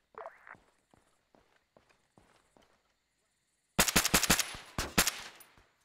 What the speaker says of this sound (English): He's firing at someone.